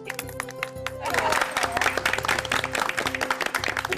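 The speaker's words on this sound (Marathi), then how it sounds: "टाळ्या." A gathering applauds at a neighbourhood felicitation event. Steady clapping swells after a second and continues over a low musical hum.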